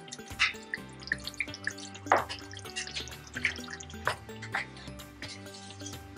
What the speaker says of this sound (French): Donc j'ajoute un peu d'eau.